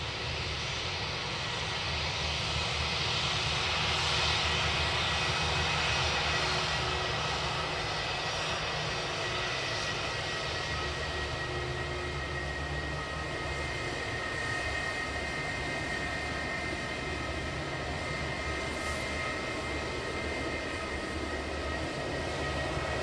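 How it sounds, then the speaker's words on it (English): China Eastern airliner taking off at Sydney Airport, a loud sustained jet engine roar with broadband rushing noise that holds steady throughout, heard from a fair distance with no voices. "You'll get to see the takeoff."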